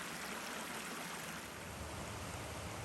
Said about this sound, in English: Cool water coming from a cave